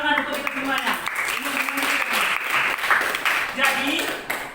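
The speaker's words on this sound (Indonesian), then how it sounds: "Tepuk tangan untuk kita semuanya." Classroom students clapping together in applause at the end of a lesson, a steady dense patter of many hands close by lasting several seconds.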